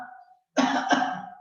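A person coughs twice in quick succession, close and fairly loud, after a brief faint voiced sound and a moment of silence.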